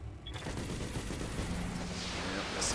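Mech missiles and cannon fire boom in the BattleTech video game, a dense volley of loud blasts and rumbling impacts that keeps going throughout.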